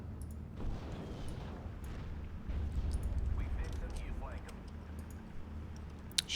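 Rumbling artillery and gunfire from the Steel Division: Normandy 44 game in a Normandy hedgerow battle, a steady low roar of distant explosions with scattered sharp reports and a loud crack near the end.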